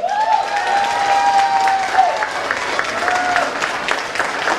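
An audience at a Vietnamese stage show honouring mothers breaks into a big, sustained round of applause, with dense clapping throughout and a faint held tone heard above it.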